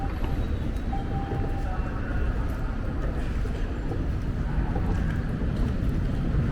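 A Boston T subway train sits in a large station with a loud, steady low rumble and rushing air, and no talk is audible.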